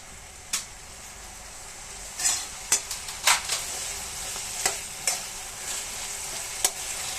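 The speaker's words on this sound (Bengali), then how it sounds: "চিকেন ভাজার যে তেলগুলো ছিল ওর মধ্যে পেঁয়াজগুলো দিয়ে এবার আমি ভাজছি।" Sliced onions frying in leftover chicken-frying oil in a wok for Bengali-style chilli chicken, a steady sizzle broken by sharp scraping clicks of a spatula stirring against the pan at irregular intervals, close up with no talk.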